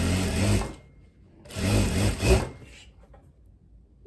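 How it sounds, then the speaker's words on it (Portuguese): A straight-stitch sewing machine sews the back crotch seam of tailored shorts in two bursts of fast, even whirring stitching, separated by a short pause, then faint handling noise. "Eu já vou fechar o gancho traseiro aqui na reta."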